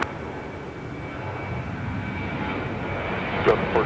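A Sun Country airliner roars on runway 12 right at Minneapolis–St. Paul Airport, a steady, broad jet rumble carrying throughout at a moderate distance with a faint voice underneath.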